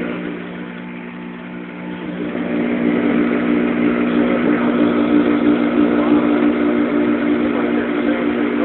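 A pool's sand-tank filter pump runs outdoors with a steady mechanical hum and whir, growing louder after a couple of seconds and then holding even and close.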